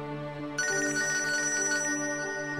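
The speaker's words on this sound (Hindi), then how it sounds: "तो अप्सरा का ही फोन है?" A phone ringtone in a Hindi TV drama scene, a melodic electronic ring that starts about half a second in and repeats steadily, loud and close, with no talking over it.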